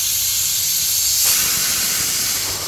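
Bay leaf, black cardamom and cumin land in hot oil, bringing a strong steady hiss that swells slightly midway and stays dense and close until a brief knock at the very end.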